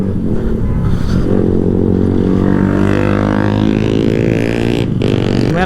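A group of about fourteen motorcycles rides together, about half of them fitted with loud aftermarket exhausts, making a continuous, loud, close engine roar with layered droning tones that rise and shift.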